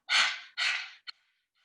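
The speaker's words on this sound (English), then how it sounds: "we're gonna do a breath called breath of fire" Breath of fire in a yoga session: two forceful, sharp breaths close to the mic, each about half a second long, then a short clipped puff and a faint trailing breath.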